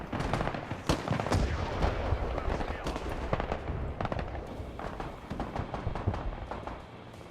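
Mortar and grenade launcher fire from the video game Broken Arrow forms a dense battle din of overlapping booms and bursts, loud and continuous across the scene.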